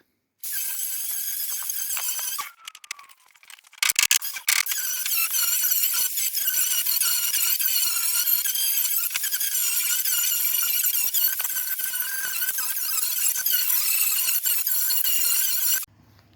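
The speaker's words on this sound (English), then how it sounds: "to do that I'm going to use these paint stripping disc things" A paint stripping disc grinds paint off a Ford Escort MK1 body during restoration, a harsh, steady high-pitched whine with a short pause early on, running continuously until it stops at the end.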